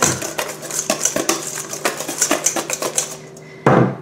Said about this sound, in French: Il faut bien mélanger pour ne pas avoir de grumeaux dans la pâte.